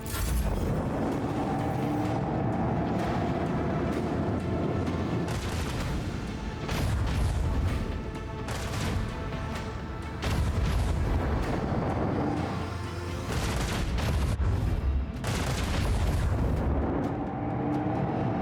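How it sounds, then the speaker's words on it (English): Macro cannons fire in the Warhammer 40,000: Rogue Trader video game, a dense, continuous barrage of booming blasts and rumbling mechanical noise with repeated sharper bursts throughout, loud and without voices. "Let the macro cannon sing their deadly litany."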